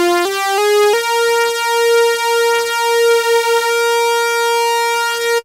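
Two analog synth oscillators tuned to the same octave sound a buzzy, harmonically rich tone that steps up in pitch a few times, then holds one sustained note before cutting off abruptly.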